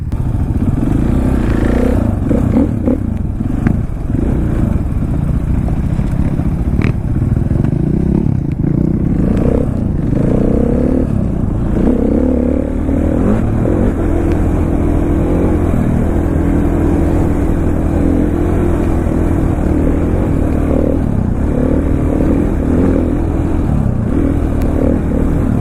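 Supermoto motorcycle ridden nearby, the engine droning and revving steadily with rattling, clattering and scraping noise throughout, loud and close.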